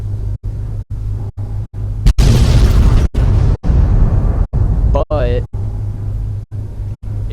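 Gauss pistol in Fallout 3 firing with a loud electric boom and crackling discharge, overlaid on a steady game hum broken by rhythmic dropouts, with a brief rising whine suggesting the reload.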